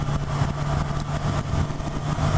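A 2018 Honda CB1000R motorcycle engine idles close by with a steady, loud, even throb that carries on unchanged throughout.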